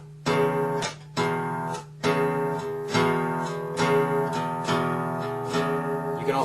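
An electric guitar plays a blues shuffle in E with the notes left ringing rather than palm muted: a loose, loping two-note riff repeated in bright, sustained strokes, close and alone with no talking.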